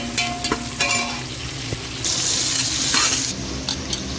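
Onions sauté in a pan for vegetable biryani, with a close sizzle under scraping, clinking stirs of a utensil against the metal; the frying swells louder in the second half.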